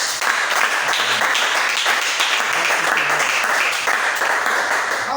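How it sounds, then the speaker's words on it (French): A church congregation applauds and acclaims the Lord with dense, continuous clapping and cheering that holds steady from start to finish. "Essayez un peu d'acclamer le Seigneur."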